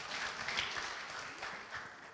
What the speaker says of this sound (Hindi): एक बार फिर से क्यों ना हम तालियों के द्वारा उनको बधाई दे,